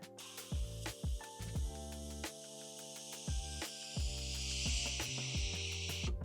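A battery-powered Graco LineLazer ES 500 line striper releases spray pressure from its unit, giving a hiss that builds toward the end, punctuated by sharp clicks and knocks.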